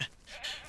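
A single faint, short goat bleat from farm goats in Ranch Simulator, a brief nasal cry heard alone at low volume.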